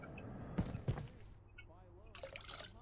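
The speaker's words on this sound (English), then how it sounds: "Yeah, pour into there." Liquid pours into a container in the video game Abiotic Factor: a soft, brief splashing pour with a few clicks before it, heard under a quiet game background.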